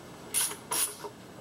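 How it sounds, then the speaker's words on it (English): Two quick clicking bursts from a ratchet fitted with a deep well 12 socket working on tight bolts during a Prius engine swap, close and fairly quiet with no talk. "Put the 12 on the ratchet."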